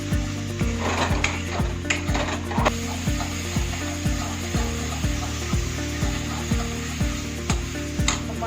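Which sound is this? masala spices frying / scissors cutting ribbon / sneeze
masala spices frying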